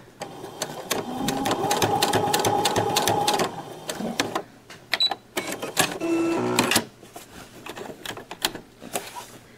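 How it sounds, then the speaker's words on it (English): Sewing machine stitching bias tape, rapid rattling needle bursts running for a few seconds, stopping, then resuming in shorter runs with brief quiet gaps between, close and loud. "Trying to watch my machine and sew with one hand at the same time is not very effective"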